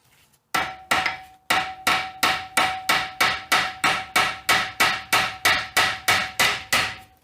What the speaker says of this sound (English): once you hammer this out